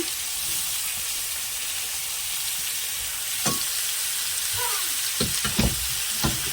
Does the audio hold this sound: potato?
yes